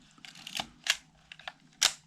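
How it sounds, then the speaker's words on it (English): A Vivitar V3800 SLR film camera fires its mirror and shutter in a few sharp mechanical clacks, close and clear against a quiet room, with a faint hum underneath. "closes the shutter, opens the aperture and fires the mirror back down."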